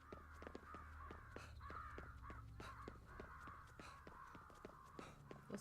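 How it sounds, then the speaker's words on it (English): Crows caw repeatedly in a video game set in Tokyo, harsh rasping calls in an irregular rapid series over a low steady hum, faint overall. "Those crows are absolutely insane"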